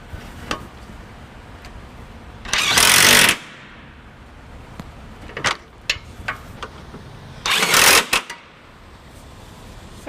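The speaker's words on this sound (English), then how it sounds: "Now I'm going to go ahead and tighten them down with my socket here." Socket tool tightening trailer hitch nuts on a 2017 Chevrolet Cruze hatchback: two loud, close buzzing bursts with scattered small clicks and knocks between them and no talk.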